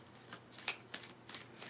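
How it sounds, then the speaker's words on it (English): A deck of tarot cards is shuffled by hand, giving quick riffling bursts in an uneven rhythm, close but fairly soft, with no talking. "Let me shuffle this deck because I just picked it up"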